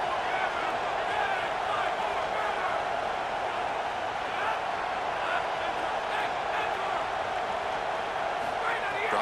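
Steady stadium crowd roar from an EA Sports College Football video game on a third down, a dense, continuous wash of cheering with no clear breaks.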